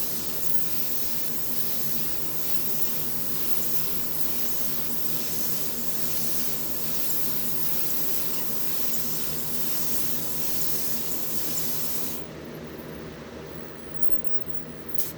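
Paint hisses steadily from a close-up spray gun as a coat goes down on a tumbler cup, a long even rush that stops sharply for the last few seconds before a faint tail.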